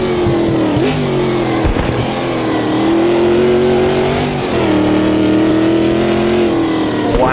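A high-torque American race car in the Automobilista 2 racing sim roars at the Rouen circuit, its engine droning loud and close as the pitch climbs and drops through gear changes, with a voice talking over it.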